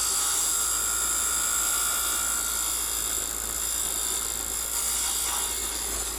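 A wood lathe turning a chess bishop gives a loud, steady high-pitched whine with a constant motor hum, unbroken for several seconds and no voices.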